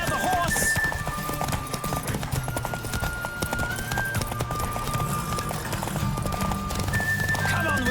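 Horse hooves clip-clop in a steady galloping rhythm in The Witcher 3: Wild Hunt, loud and close, with neighs and game music running underneath and speech in the mix.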